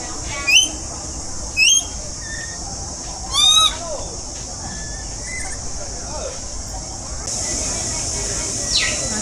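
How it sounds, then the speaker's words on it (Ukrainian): Red parrots at a zoo in a Vietnamese park let out a few loud, sharp calls that rise in pitch, spaced a second or two apart, over steady background murmur and a constant high hiss. "А тут ще ось такі червоні папуги. Щось вони розійшлися."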